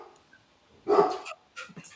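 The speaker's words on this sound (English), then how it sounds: "Yeah, well, that's a dog I hear." A dog barks indoors in a home, a short burst of a couple of barks fairly distant and moderately loud, followed by a few softer yips, with no talk over it.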